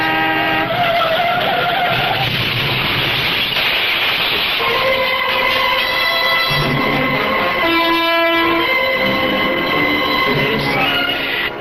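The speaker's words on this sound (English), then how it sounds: "was that the sound of a car crash?" Loud tires screech in long, wavering squeals, layered with a roaring engine and a harsh metallic grinding, continuous throughout.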